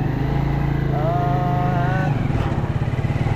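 A motorcycle engine runs while riding, a loud close buzzing drone with a brief rising whine in the middle and the engine note turning choppier toward the end.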